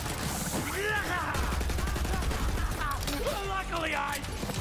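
Shotgun blasts in the first-person shooter Borderlands 3, several loud punchy bursts among game sound effects and mechanical clatter, with someone talking over much of the action.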